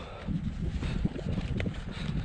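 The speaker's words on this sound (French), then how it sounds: "il y a un petit peu de vent" Wind buffeting a microphone on a mountain trail near an aid station, low rumbling gusts that swell and ease unevenly, loud and close, with no voice over them.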